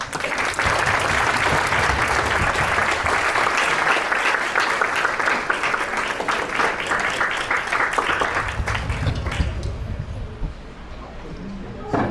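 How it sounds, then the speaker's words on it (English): Audience at an ISKCON Naperville festival applauding to welcome a speaker, sustained loud clapping for about nine seconds before fading into low room murmur and a voice. "let's welcome Ms. Bhagyashree with a good big round of applause"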